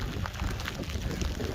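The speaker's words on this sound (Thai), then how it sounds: "ฝนตกค่ะ" Rain falls steadily on a rural countryside home in a dense, even patter that stays close and continuous, with no voices.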